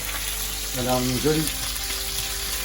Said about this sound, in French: on va incorporer les lentilles qu'on va également faire suer avec les oignons